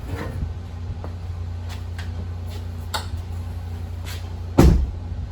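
A Ford Bronco's heavy tailgate door thuds shut once near the end, over steady engine idle and a few light clicks.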